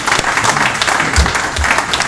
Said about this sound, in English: it's fairly rare when the audience starts applauding after we do something up here